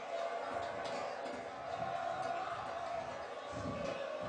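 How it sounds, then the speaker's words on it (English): A sold-out stadium crowd at a Belen versus Columbus high school football game roars steadily, a dense wall of cheering and chatter with occasional louder swells. "You can hear the fans going crazy"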